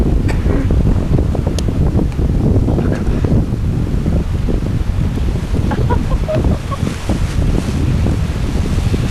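Strong wind at a hillside paragliding site in Fife buffets the microphone in a constant loud rumble, with gusty surges and no talking.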